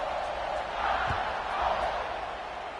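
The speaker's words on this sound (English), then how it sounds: "this crowd is buzzing after that last score" Football video game stadium crowd buzzing after a scoring drive in a James Madison game, a dense steady roar with slight swells, broad and continuous across the whole stretch.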